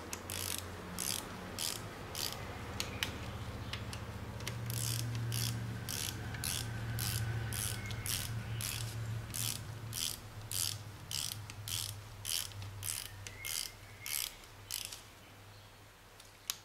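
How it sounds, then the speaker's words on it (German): A hand ratchet clicks in quick repeated bursts while tightening the connecting rod bolts on a BMW N42/N46 four-cylinder engine from an E46 318i/316i, a close, dry pawl rattle with short pauses between strokes and a faint mechanical hum underneath. "Und dann wieder in zwei Durchgängen die Pleuelschrauben festziehen."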